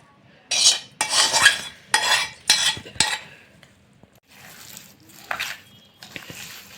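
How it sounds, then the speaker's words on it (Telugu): Cooled mustard-seed tempering being mixed into a mango pickle with a spoon, heard as a series of wet scraping and stirring strokes in bursts with brief pauses between them. "తాలింపుని మంచిగా వేసి ఈ విధంగా మంచిగా కలిపేసుకొని"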